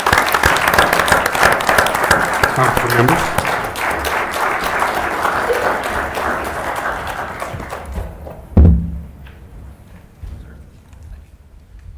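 Applause from the audience at a city council meeting, sustained dense clapping for about eight seconds with a voice speaking over it, then a sharp thump and quieter room noise.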